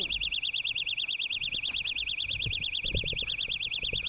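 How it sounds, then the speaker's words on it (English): A loud electronic bite alarm on a fishing rod, rigged for catfish, sounds continuously as a warbling, siren-like tone throughout, with faint handling knocks and thumps underneath. "That's a loud alarm."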